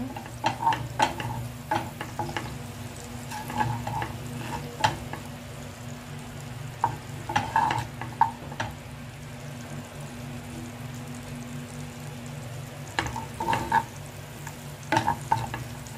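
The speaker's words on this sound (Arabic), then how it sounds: "احنا كميه صغيره فهنحطها شرايح وننزلها نشوحها فيها" Sliced garlic sautéing in oil in a preheated pan: a low continuous sizzle broken by bursts of sharp scraping and clinking as a utensil stirs, quiet and close with no talking.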